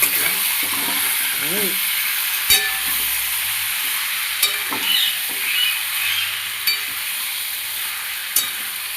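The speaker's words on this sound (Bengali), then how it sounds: "এই যে খাসির মেটে চচ্চড়ি রান্না করছি" Goat liver chorchori being stirred and fried in a pan, with a steady close sizzle and a few sharp spatula scrapes and clinks against the pan, plus faint voices and brief background noises.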